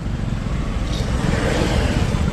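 A Ford Mustang's engine gives a steady, loud low rumble that holds even throughout, with broadband road and engine noise and no clear revving.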